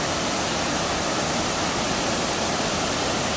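Bantakay Falls pouring in a constant dense roar of rushing water, broad and unbroken, fairly loud and close with no voices.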